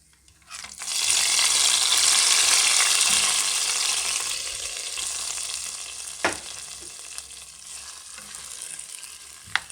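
Tempering seeds frying in hot oil for a mixed vegetable pulusu make a loud, steady sizzle that starts abruptly and then slowly settles. A couple of brief stirring clinks cut through, and no one speaks.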